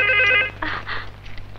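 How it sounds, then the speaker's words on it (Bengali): A telephone rings in a Bangla action movie scene with a short electronic trill, followed by soft rustling and movement as the ring stops. "ফোন বাজছে, আমি যাই।"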